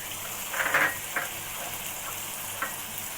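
Fish heads, broken into pieces, with vegetables and kata data stalks sautéing in a pan for a chorchori, giving a steady sizzle with a few brighter stirring scrapes. There is no talking.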